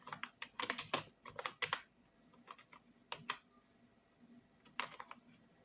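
Computer keyboard typing, close and clear, with rapid bursts of key clicks in irregular clusters separated by short pauses, no talk.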